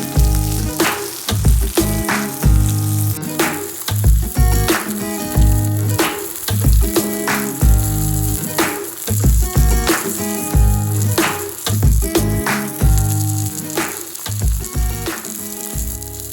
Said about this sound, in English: these chicken cutlets have been sizzling away for about 3 minutes now